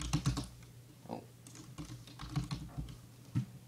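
Quiet typing on a computer keyboard while entering an object name in the Blender game engine: irregular, close clicks in short bursts with small pauses between them.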